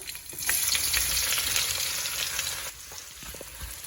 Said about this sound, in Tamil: இப்போ இந்த கடலை நெய்யும் நல்லா சூடாயிட்டு அப்போ நாங்கள் வெட்டி வச்சுருக்கோம் இந்த வெங்காயத்தை போடுறோம்